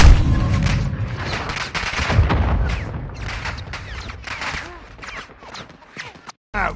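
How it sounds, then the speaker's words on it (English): Gunfire pours onto a building in a combat scene: loud booming shots and rapid bursts, dense at first then thinning, with voices shouting over the barrage. "I will fire on that building now!"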